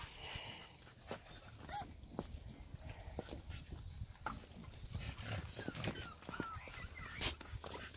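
An agitated Staffordshire bull terrier puppy, a young female, making short whimpers, yelps and scuffling movements at close range, intermittent bursts over a quiet indoor background.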